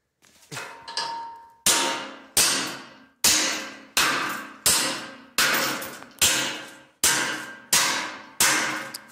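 Steady hammer blows, about nine sharp metallic strikes at an even pace, each ringing and fading before the next, loud and close with no talking.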